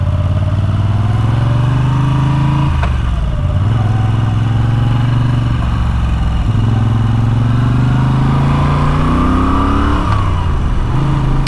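A Moto Guzzi V7 850 motorcycle on a daily ride, its engine loud and close throughout, rising in pitch as it accelerates through the gears with brief dips at each shift.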